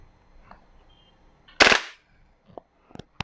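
An airsoft gun fires on full auto: one short, loud, rapid burst close by, followed by a few faint, scattered clicks.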